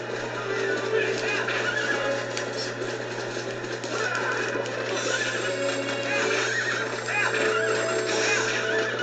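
Horse in the Zelda Twilight Princess video game heard amid constant, dense game noise, with whinny-like sounds and clip-clop mixed into the battle clamour and a steady low hum underneath.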